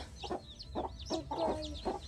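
Chickens cluck in short repeated bursts at a rural Thai-Lao family home, fairly close but quiet, with no talk over them.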